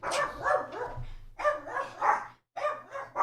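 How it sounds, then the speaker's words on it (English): Several dogs barking in repeated bursts, three clusters of barks separated by short pauses, fairly close and agitated, with no talk over them. "Bark boys going nuts."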